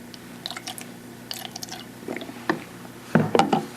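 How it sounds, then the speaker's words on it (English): Deionized water rinses pH and ORP probes in a lab, giving short splashy bursts and drips that come in uneven spurts, loudest near the end. "We rinse them off with deionized water"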